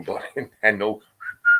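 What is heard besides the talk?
whistle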